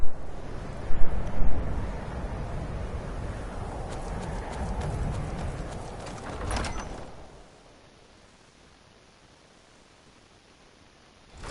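Horse hooves clip-clop in the video game Skyrim, with a few louder thuds at the start and a steady patter under wind-like noise that fades out to near silence.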